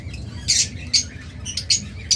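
A pair of lutino opaline pet birds gives sharp, bright squawks in short bursts, about five calls spaced irregularly over a quiet low rumble.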